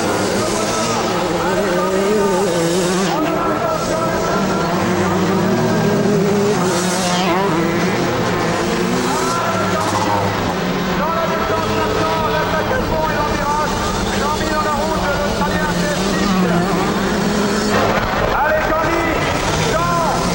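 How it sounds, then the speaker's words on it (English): 125 Honda motocross motorcycles racing at the 1988 Motocross des Nations in France, a continuous roar of engines revving and droning throughout, loud and constant, with a commentator talking over it. "another impressive ride is that of Bales aboard a 125 Honda"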